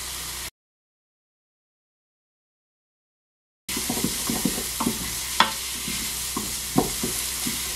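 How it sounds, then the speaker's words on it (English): Onion and garlic fry in a Ninja Foodi, with a steady sizzle broken by repeated scraping stirs of a utensil, after a short silent gap. "You then want to add the onion and garlic and fry until fragrant for 1 to 2 minutes."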